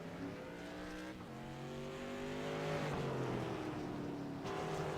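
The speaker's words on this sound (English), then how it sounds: "it looks like the number 5 is going to spin out Arbu" Race cars circle a short oval bullring track, one machine spinning out, their engines droning steadily with shifting pitch, a continuous loud roar that rises and falls as the pack passes.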